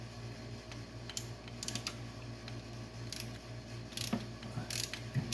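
A swivel-head ratchet snugs down a distributor hold-down bolt on a Chevrolet Suburban, making quiet rapid clicking in short bursts with faint metallic taps and a steady low hum underneath, and no one speaks.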